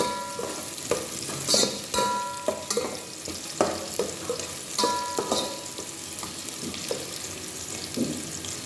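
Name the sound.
onion and ginger frying in a pan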